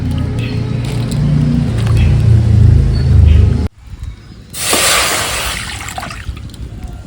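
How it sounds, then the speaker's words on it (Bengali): Boiling hot water is poured over jujube fruit for pickling, a heavy close rush of liquid that cuts off abruptly, followed by a brighter splashing gush and then faint settling trickles. "এবার এই ফুটন্ত গরম জলটা আমি কুলের মধ্যে দিয়ে কুলটাকে ভিজিয়ে রাখছি কিছুক্ষণের জন্য"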